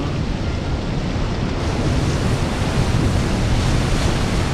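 Steady rushing water of a river in Dark Souls 2, a dense, unbroken wash of broadband noise that holds constant and loud throughout with no voices.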